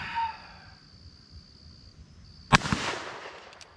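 A Cimarron Model P Old Model revolver fires a coated .38 Special round at a steel gong, one sharp, loud report with a short ringing tail after a quiet lead-in with faint background noise.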